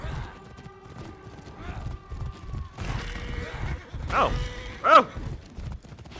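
Horse hooves clip-clopping at a gallop in the video game For Honor, a steady rhythmic beat under game noise, with someone talking and exclaiming over it and clashing sounds near the end.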